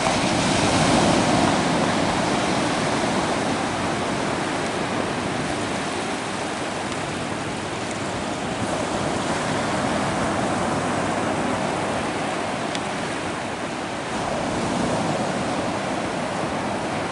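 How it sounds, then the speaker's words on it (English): Surf rolls continuously onto the seashore at Myrtle Beach, South Carolina, a broad steady wash of breaking waves mixed with some wind, with no voices. "I'm at the seashore here in Myrtle Beach, South Carolina, and you can see there are seagulls floating around in the water."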